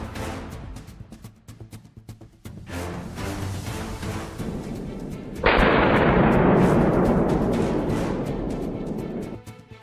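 Rifle shots crack during a wild boar hunt with hounds, several sharp reports in a row outdoors followed by a loud booming blast that rumbles and fades slowly.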